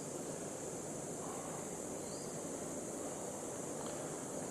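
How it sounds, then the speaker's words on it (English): A powerful hotel shower runs steadily in a Singapore hotel bathroom, a constant broad hiss of spraying water at even loudness throughout, with no voices. "Really good, powerful shower."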